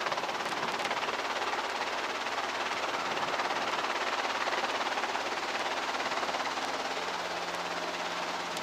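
Steady, loud whine and rotor drone of a training helicopter lifting off during a flying lesson, continuous and close, with no talk over it.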